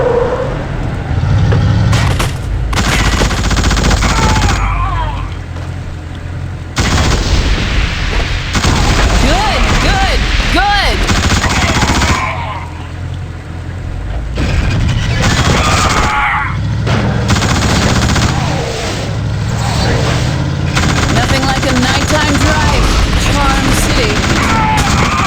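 In The Suffering: Ties That Bind, gunfire rattles and booms from a moving car in loud bursts broken by short lulls, layered over engine rumble, with voices talking at times.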